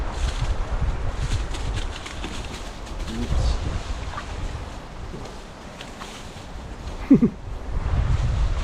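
Wind blows by the sea, a cool breeze buffeting the microphone with low rumbling gusts and surf-like wash, while people talk nearby and a bird coos briefly.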